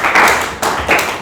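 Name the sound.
audience clapping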